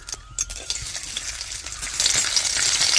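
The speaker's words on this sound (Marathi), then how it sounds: "कढई वर ठेवून घेते. वगैरे तेल टाकून घेते. लसूण टाकून घेते." Garlic drops into hot oil in a kadai with a few clinks of metal, then a steady sizzle of frying that swells louder toward the end, close and with no talk.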